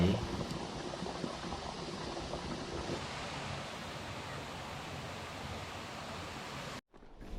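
The Tham Yai waterfall on Phu Kradueng roars as a steady, broad rushing wash, constant and fairly loud, before cutting out abruptly near the end.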